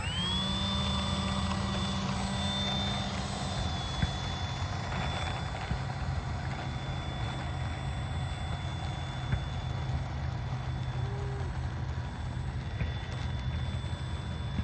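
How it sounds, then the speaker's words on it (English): Durafly DH 100 Vampire RC model jet taxiing on a cracked, bumpy runway, a steady close electric ducted-fan whine with a rising tone at the start over constant broadband rush, continuous for the whole stretch with no talk. "let's go ahead and just do some taxiing and see how it performs on the ground"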